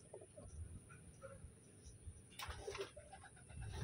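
Pigeons coo softly in a loft, faint low murmuring calls scattered through a quiet background with a brief louder rustle midway.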